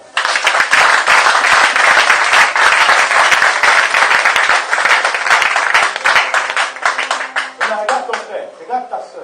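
A church congregation applauds to acclaim the Lord, with loud, dense, sustained clapping that thins into scattered claps toward the end. Voices are mixed in.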